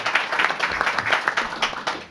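A small group applauding after an announcement at a Rochester business interview event, steady close handclaps lasting about two seconds with no one speaking over them.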